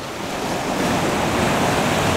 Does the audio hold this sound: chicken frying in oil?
no